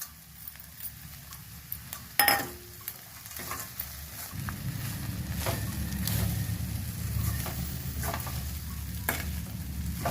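Cashews and peanuts fry in a pan for munaga aaku podi, with stirring scrapes and scattered taps at first, then a fuller sizzle that rises midway and holds, near and moderately quiet, no talking.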